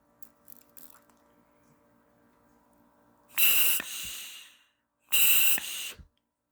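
Two loud breaths drawn through a scuba regulator, each a harsh hissing inhale followed by a softer exhale, close up, after a few faint clicks and quiet hum.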